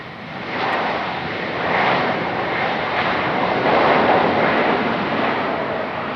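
A fixed-wing airliner touching down at Raleigh Durham airport, a loud, steady broadband engine roar that swells slightly and holds for several seconds, with no voices.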